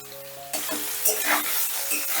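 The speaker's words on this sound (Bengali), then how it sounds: "নুন হলুদ দিয়ে সোয়াবিনটা বেশ লাল লাল করে ভেজে নেবো" Soybeans drop into hot oil mixed with salt and turmeric for a lentil dish, bursting into a loud, close sizzle after a brief quiet hum, with stirring scrapes under the hiss.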